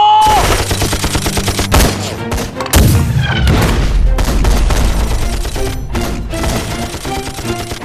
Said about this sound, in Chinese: 停止射击